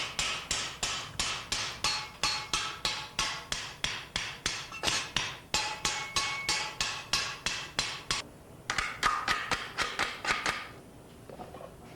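A hammer repeatedly strikes a hardened steel saw blade to flatten it, producing a long series of sharp, ringing metallic blows at a steady rhythm of roughly two to three per second, close and loud.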